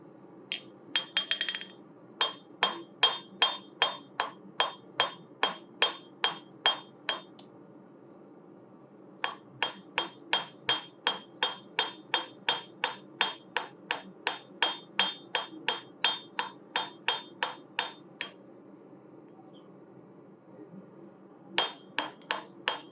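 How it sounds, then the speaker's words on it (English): A mini sledge hammer strikes a railroad spike being forged in long runs of evenly spaced, ringing metallic blows, each sharp and clear, with brief pauses between the series and no speech. "I think I'm going to change the hammer I'm using for this, because we could probably switch over to the mini sledge and then use that."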